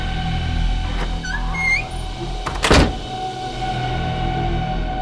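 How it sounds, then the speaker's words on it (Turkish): A door is locked in a tense horror-story sound effect: a few small mechanical clicks and scrapes lead up to one sharp, loud latch clack, then quiet room tone with a faint steady hum. "Ve hemen kapıyı kilitliyorsun."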